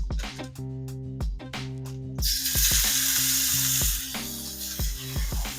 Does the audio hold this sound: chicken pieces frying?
yes